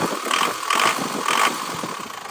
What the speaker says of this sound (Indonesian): kondisi mesin sudah panas ya bos-bosku semua. Kondisi mesin sudah panas tanpa keluar asap.